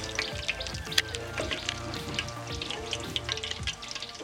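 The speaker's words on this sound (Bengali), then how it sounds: "বন্ধুরা আমি বাদ বাকি পকোড়াগুলো ভেজে নিচ্ছি" Chicken pakoras fry in hot oil until crisp, giving a continuous close bubbling sizzle with fine crackles and pops throughout.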